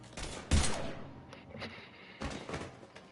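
Gunfire in Mass Effect 3 arrives as several sharp, close shots and short bursts, with one especially loud crack early on and quieter gaps between volleys.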